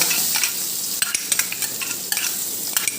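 Stir-frying in a pan for braised pork-belly eggs with tofu: a steady bright sizzle with repeated scraping strokes of the spatula, close and fairly loud, no talking.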